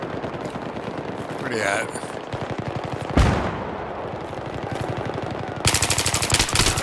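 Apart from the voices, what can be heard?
gunfire in the video game Battlefield 3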